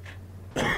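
A single sharp cough bursts out near and loud after a half-second of quiet room hum, heard during play of a horror video game.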